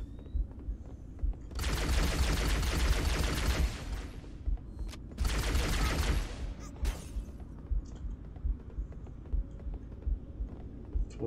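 Charged-shot gunfire in the video game Halo: Combat Evolved: two long, rattling bursts of dense rapid fire, the first running about two seconds and the second shorter, set against quiet game ambience.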